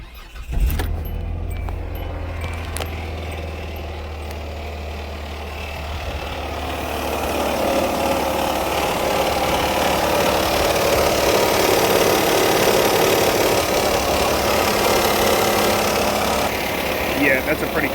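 A car engine with a clattering fault, suspected to be the timing belt, cranks and fires, then settles into a steady, close idle with a rough mechanical ticking and rattling running throughout.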